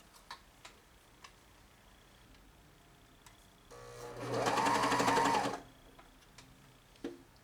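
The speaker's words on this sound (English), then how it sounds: "then serge that fourth of the neckline" A serger stitches a knit neckband onto a T-shirt neckline in one continuous whirring run of about two seconds, close and loud, with light clicks and handling taps before and after.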